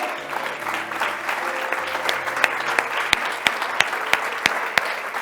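A church congregation claps steadily, a dense patter of applause with a few sharper, louder claps standing out near the end.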